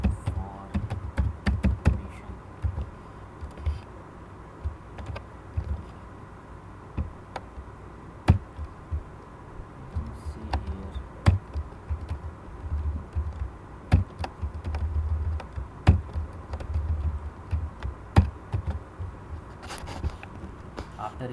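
Typing on a computer keyboard while writing HTML heading tags, with irregular bursts of close clicking keystrokes and brief pauses between them.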